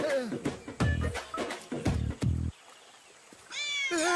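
A cat meows repeatedly in a Hindi-dubbed film scene, several loud close mewls in quick succession followed by a pause and another drawn-out meow.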